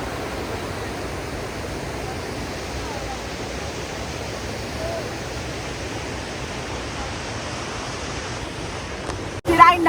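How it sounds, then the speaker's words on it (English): The Kunhar River in Pakistan rushes past in a broad, steady roar of churning water, loud and unbroken for the whole stretch, with a brief clatter of handling noise at the very end. "This is the Kunhar River, which becomes the Indus River."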